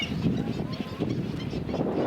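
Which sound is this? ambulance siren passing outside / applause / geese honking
geese honking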